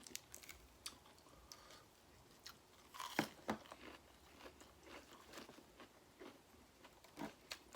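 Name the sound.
chewing while eating fresh noodle soup with shrimp paste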